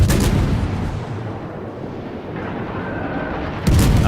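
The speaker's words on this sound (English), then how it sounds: "Battleship's putting rounds into him." Naval gunfire from a battleship in the World of Warships video game: a dense, rumbling barrage of heavy booms rolling continuously at fairly high level, ending in a sharp louder blast, with no talking.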